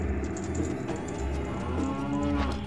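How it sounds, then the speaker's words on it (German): A cow moos loudly in The Legend of Zelda: Ocarina of Time hack game, a single long, droning low call that holds for the whole stretch. "Oh, hier ist eine Kuh. Ist gerade eine Kuh erschienen?"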